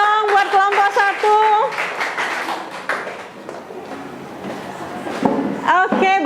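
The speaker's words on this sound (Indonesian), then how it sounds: "Tepuk tangan dong buat kelompok" Classroom applause for a student presentation group, a burst of clapping from the class mixed with voices and chatter, moderately loud and continuous across the short stretch.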